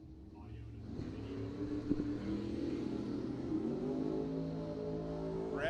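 A 2000 Chevrolet Camaro at a bracket drag race revs and accelerates, its engine tone climbing from a distant rumble into a sustained louder growl, while people talk in the background.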